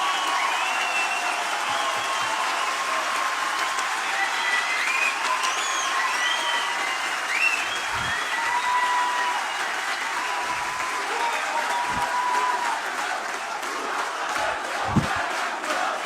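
An audience at a political talk breaks into sustained applause, a dense, even wash of many hands clapping with some shouts mixed in, loud and continuous throughout.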